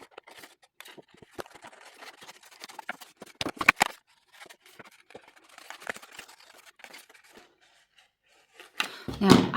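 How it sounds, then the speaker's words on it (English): Scissors fussy cut around a card with scattered small snips and paper rustles, a few louder crunching cuts partway through and a heavier handling noise at the end, close by and free of speech. "Next, I'm going to fussy cut that one."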